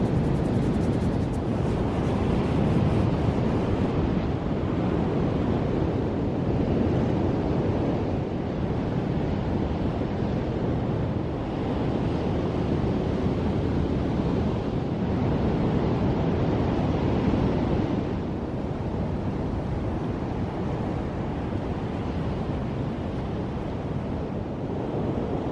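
Ocean waves breaking against coastal rocks and throwing up white water spray, heard as a sustained, loud, washing roar with slow surges, mixed with wind buffeting the microphone.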